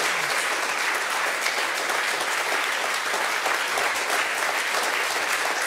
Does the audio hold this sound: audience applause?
yes